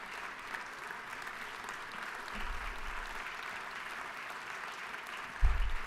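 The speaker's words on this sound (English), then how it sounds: "Let's go ahead and give them a big round of applause for this" Applause from members in the Georgia House chamber during a legislative session, a steady, fairly distant wash of clapping that carries on throughout, with a brief bump near the end.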